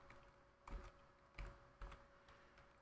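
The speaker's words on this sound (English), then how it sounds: "We'll type in here Nibco" Keys on a computer keyboard are typed in a few soft, separate clicks, spaced out over a couple of seconds and quite faint.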